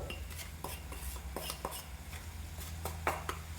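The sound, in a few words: mixing roasted semolina with vegetables in a pot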